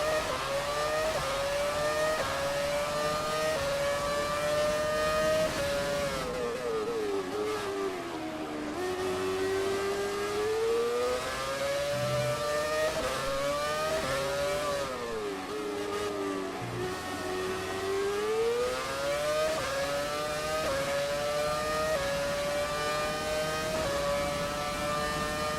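A classic Ferrari Formula 1 car engine in the racing game F1 2017 at the Canadian circuit, a loud continuous high-pitched scream that rises and falls repeatedly through gear changes and throttle lifts, with no talk over it.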